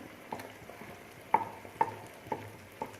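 Minced keema stirred and frying in oil in a pan for an egg keema curry: a steady close sizzle broken by four or five sharp scraping knocks of the spoon against the pan, spaced roughly half a second apart, with no talking.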